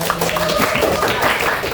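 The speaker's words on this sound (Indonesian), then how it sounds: "Tepuk tangan dulu buat" A classroom audience at a teaching session claps their hands in a short, dense burst of close applause, with a voice talking underneath.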